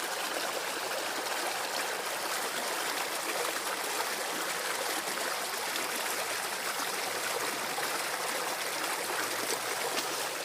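Water gushes from a broken water main flooding a park, a steady broadband rushing like a small waterfall that stays constant and moderately near, with no talking.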